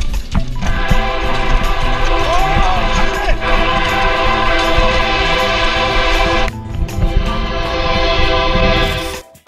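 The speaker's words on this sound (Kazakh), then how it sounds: "Жарты жолға келгенде пойыздың дауысын естиді." A train rumbles loud and close inside a railway tunnel at a city's edge, its deep continuous roar and steady tonal horn-like hum filling the whole stretch, briefly dipping before surging again and then cutting off.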